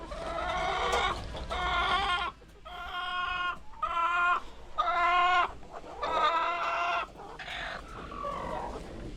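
Several chickens being sold in a Philippine backyard cluck and squawk in repeated loud bursts, close by, with short pauses between calls and no talking.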